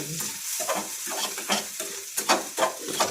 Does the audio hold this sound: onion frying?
yes